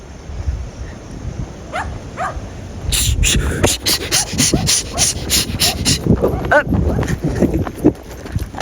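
Dogs bark nearby in short bursts amid clattering, rhythmic knocking and people talking.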